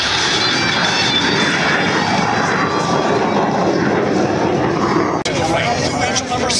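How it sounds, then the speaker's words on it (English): A Blue Angels jet takes off and accelerates at El Centro NAF during an air show, with a loud, continuous broadband engine roar filling the whole stretch and a brief dip near the end. "He will execute a very precise slow transition as he accelerates his aircraft to 300 miles per hour."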